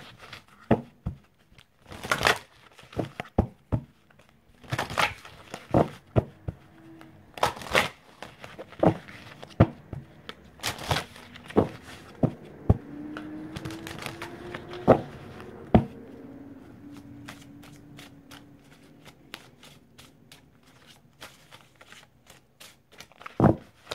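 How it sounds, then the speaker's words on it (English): Cards are shuffled and riffled in repeated sharp bursts of crisp flicking and snapping, fairly close, with brief pauses between them and a faint low hum underneath. "I did not shuffle these, so let me shuffle those."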